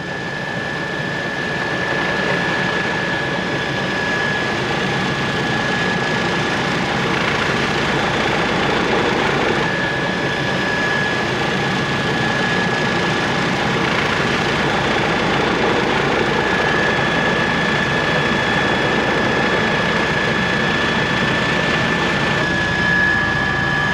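A naval helicopter flies over the earthquake-damaged northern Chilean port near Iquique, giving a steady, loud engine and rotor roar that holds constant throughout, with a persistent whine on top and no talking.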